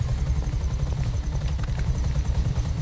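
A helicopter in the video game GTA V sets down, its rotor thumping in a fast, steady low pulse with a rough engine whine above, loud and continuous with no talk.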